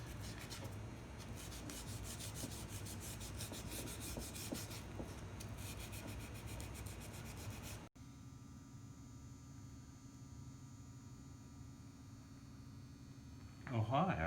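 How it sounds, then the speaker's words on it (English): Sandpaper rubs back and forth over a wooden keepsake box for several seconds, a steady close scratchy rasp, followed by a quieter stretch with a low hum and a brief knock at the end. "But first I have to sand it"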